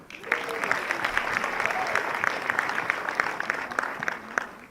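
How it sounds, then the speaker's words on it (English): Steady audience applause fills a hall at a Rotary club installation, a dense even wash of clapping that carries on for several seconds without speech. "Please clap for her."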